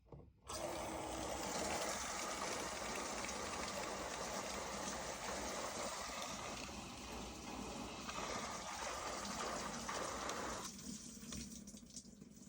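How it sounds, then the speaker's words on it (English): Water gushes steadily into the tub of an LG washing machine that has a continuous-fill fault, a constant close rushing that starts abruptly and runs without pause, with no talking. "Water should go into the tub."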